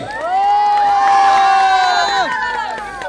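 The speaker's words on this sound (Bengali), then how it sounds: "একটা জোরে হাততালি কি ওর জন্য পেতে পারি সবাই?" Loud crowd cheering and whooping for a guest at a wedding gathering in Durgapur, with sustained high voiced shouts swelling for about two seconds and then fading.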